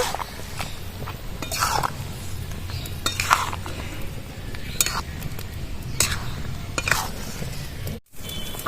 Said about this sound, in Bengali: আস্তে আস্তে গুড়ের সাথে আমগুলো ভালো করে মিশিয়ে দেবো